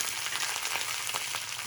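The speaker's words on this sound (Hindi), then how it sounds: "ये हम प्याज और हरी मिर्ची डालेंगे।" Onions and green chillies fry for mutton dal gosht, a continuous close sizzle with faint crackles and light stirring throughout, no voices.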